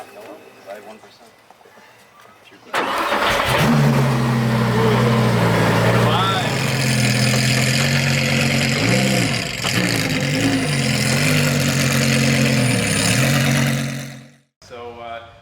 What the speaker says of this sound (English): So now we hit ignition.